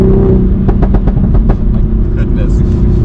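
A 500HP Toyota Supra engine pulls hard under part throttle in fifth gear, a loud steady low drone inside the cabin with a few short rising pulses, while a person talks over it.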